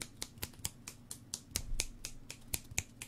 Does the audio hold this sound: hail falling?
no